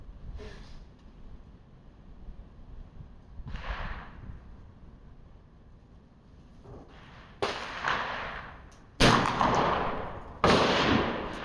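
Smoothbore rifle shots fired offhand at a target 75 yards away on an outdoor range in high wind: sharp single reports spaced seconds apart, each with a short decaying tail, the later ones louder and closer.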